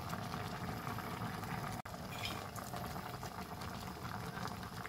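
Coconut milk bubbles with a banana snack cooking in it, a dense, steady simmering fizz heard up close and continuous, with one brief click partway through.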